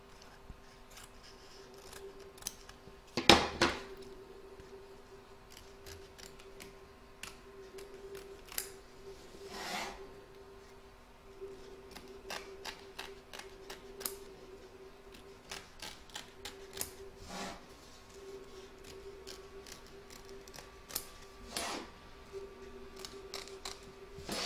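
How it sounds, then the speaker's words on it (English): Scissors snipping away excess fabric around an in-the-hoop hedgehog applique, quiet scattered clicks and cuts at irregular intervals with a faint steady hum beneath and an occasional louder snip. "So now we're going to trim up all the excess fabric, both front and back."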